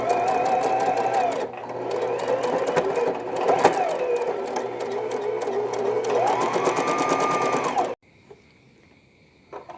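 A sewing machine stitches a smocking frock in a steady, fast mechanical whir with rhythmic needle clatter and brief changes in pace, running for about eight seconds before stopping abruptly.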